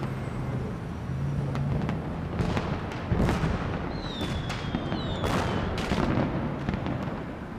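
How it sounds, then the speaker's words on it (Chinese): Fireworks go off in a TV drama scene: scattered bangs and crackles pop at a distance, and around the middle a couple of whistling rockets rise before more bursts follow. "烟花"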